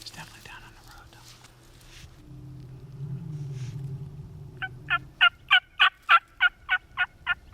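A wild turkey gobbles during a spring hunt on public land in Washington, a fast string of about nine loud rattling notes near the end, preceded by low rumbling and faint whispered talk.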